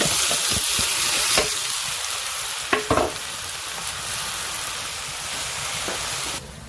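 Small chanda fish fry frying with onion, turmeric and chili, a loud continuous sizzle with a few sharp clacks and stirring scrapes from a utensil, then settling to a steady hiss.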